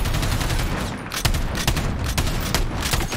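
Rapid gunfire rattles continuously in the shooter game Modern Warfare, loud and dense, with repeated bursts and sharp shot transients over a thick low rumble for about three seconds.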